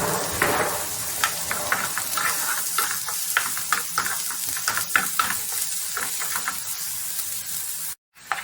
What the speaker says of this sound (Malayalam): ഇനി അതിൽ കുറച്ചും കൂടി വെളിച്ചെണ്ണ ഒഴിച്ച് നമുക്ക് ഉള്ളി വറുത്തെടുക്കാം.